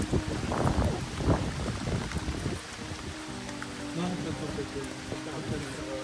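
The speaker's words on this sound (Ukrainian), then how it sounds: "почалося супер сильна злива" Heavy rain pours down in a dense, steady roar during a sudden downpour in Poland, with gusty wind buffeting the microphone early on.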